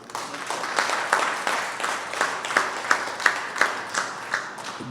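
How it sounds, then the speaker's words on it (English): An audience at a scout headquarters appreciation day gives a round of applause, steady dense clapping from many hands that swells and continues for several seconds. "this is where they deserve a round of applause"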